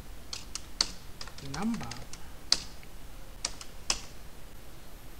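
Keystrokes tapping on a computer keyboard while entering a numeric value into a web form text box, a handful of sharp clicks scattered across several seconds under a voice speaking.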